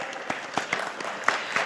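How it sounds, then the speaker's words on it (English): An audience at an awards ceremony applauds with a brief burst of scattered, crisp clapping. The claps are moderately loud and spread across the room, with no talk. "a huge round of applause."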